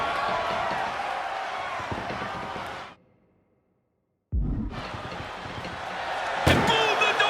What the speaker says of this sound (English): And boom, the door's shut, and there's the winner.